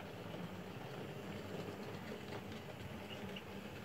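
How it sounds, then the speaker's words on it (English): An OO gauge model diesel locomotive runs steadily, its gear wheels giving a soft, continuous chuffing whirr like a small steam engine, close by and fairly quiet with no talking. "Has a bit of a chuff. Sounds more like a steam train. But that's just the gear wheels."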